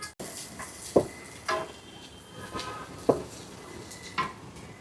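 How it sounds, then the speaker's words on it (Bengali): Onions are stirred and fried in a pan on a clay stove, with a spatula scraping and knocking against the pan in separate clanks about once a second over a faint background. "পেঁয়াজটা ভালো করে একটু নাড়াচাড়া করে ভেজে নিব।"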